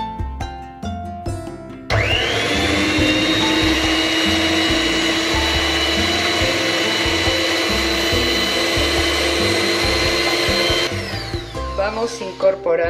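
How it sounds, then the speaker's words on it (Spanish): An electric mixer beating eggs for a torta delicia cake runs as a steady, loud, high whirring drone for several seconds, starting and stopping abruptly, with clatter and background music around it. "Para la torta delicia ponemos a batir los huevos."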